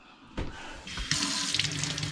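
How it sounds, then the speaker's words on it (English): Water from an RV faucet starts with a knock and then runs in a steady, close hiss and splash into the sink, getting fuller after about a second. "It's actually got a nice faucet there."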